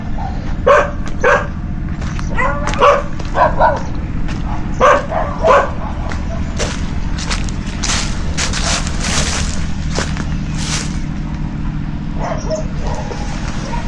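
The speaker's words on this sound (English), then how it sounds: "Dogs have given up now, trying to intimidate me." Several dogs bark repeatedly in bursts over a steady low rumble at a rural salt-making site in Thailand, the barking clustering early and thinning out later.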